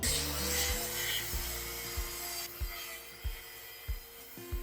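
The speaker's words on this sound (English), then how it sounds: "We will cut out the plywood in the floor storage area." Plywood in a floor storage area is cut with a tool, giving rough rasping strokes and a series of sharp repeated knocks at a steady rhythm, close by, with no speech.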